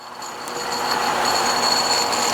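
A Rookie RS-13003 electric hose roller winds in a hose with a steady whirring, grinding motor drone and faint high squeaks, growing a little louder over a couple of seconds, with no one speaking.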